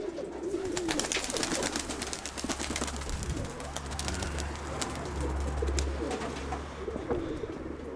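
Several pigeons coo softly and continuously nearby inside a dovecote, with occasional flutters and rustling in the enclosed space.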